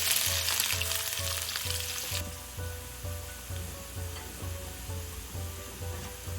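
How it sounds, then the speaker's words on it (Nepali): A medium onion drops into well-heated oil with cinnamon and cardamom for a chicken keema curry, bursting into loud dense sizzling that settles into steady frying, with rhythmic low scraping strokes of stirring beneath. "तेल राम्ररी तातेको छ, त्यही भएर प्याज अब मैले राखेँ"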